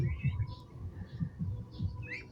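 Purple swamphen chick being fed rice, soft repeated chirps and peeps at close range over low rustling, faint and without speech.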